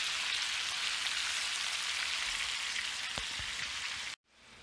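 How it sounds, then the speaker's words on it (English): Cabbage sizzles steadily in bacon grease, a loud continuous frying hiss with faint pops, cutting off abruptly near the end. "I'm just cooking this in the bacon grease"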